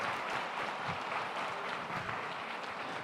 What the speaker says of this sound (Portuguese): Mais uma salva de palmas ao nosso canal Fruto Maduro.